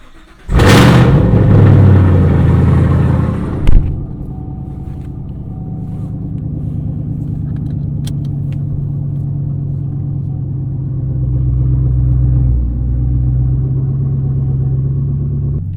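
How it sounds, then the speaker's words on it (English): A Chevrolet Camaro ZL1 cold-starts with a sharp loud crank and roar that settles within seconds into a deep, steady idle rumble, swelling slightly later on, heard close up on an early morning driveway. "Early morning cold start. Apologize to the neighbors, but let me hurry up and get out the driveway."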